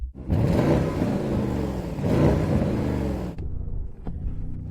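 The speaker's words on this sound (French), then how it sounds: "Alors Sam, peux-tu appuyer sur l'accélérateur mieux que n'importe quel homme vivant afin que nous puissions entendre le moteur" A V12 car engine revs hard twice in loud, rising bursts, then settles to a lower rumble with a couple of short blips.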